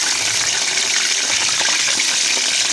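Eggplant fries in hot mustard oil, giving a loud, dense, continuous sizzle that hisses steadily with no pauses and no talk over it.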